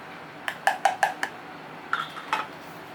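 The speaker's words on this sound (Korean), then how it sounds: "볼에 찹쌀가루 강력분 설탕, 소금 베이킹 파우더를 넣고 섞어줄게요" Dry glutinous rice flour, bread flour, sugar, salt and baking powder being stirred together in a bowl, with several light clinks and scrapes in a quick cluster, then a couple more after a pause, close and fairly quiet.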